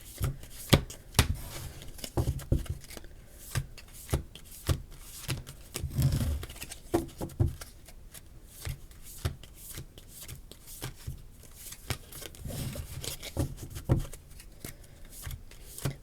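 Tarot cards being shuffled by hand during a reading, with a steady run of soft riffling and slapping bursts close by for the whole stretch, and no voice over it.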